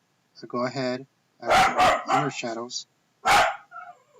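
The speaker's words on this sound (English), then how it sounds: "Please excuse my dog again. He's barking." A pet dog barks in short, loud bursts indoors, mixed in with someone talking close by.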